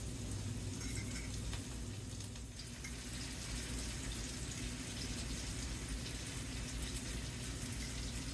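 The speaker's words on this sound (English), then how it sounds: "Just flipping our apples." Apples fry in bacon grease in a pan with a constant, dense sizzle and crackle, close and even throughout, with faint clatter as they are flipped.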